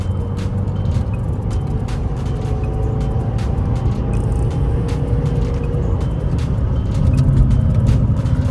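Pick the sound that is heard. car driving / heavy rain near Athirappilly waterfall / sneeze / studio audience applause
car driving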